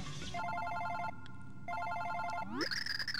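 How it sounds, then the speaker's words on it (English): A cell phone ringtone in Super Paper Mario: a bright, repeating electronic trill that pauses briefly and resumes, then ends in a rising sweep into higher tones. "Oh wait, that is my phone."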